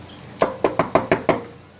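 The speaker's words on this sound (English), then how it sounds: "There's that knock again." A knock on a door: six sharp raps in an even, slightly quickening rhythm, close and fairly loud, with nothing else around them.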